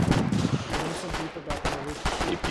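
Continuous gunfire in the Foxhole war game, with loud, dense overlapping shots in a sustained stream of combat noise and voices briefly heard beneath.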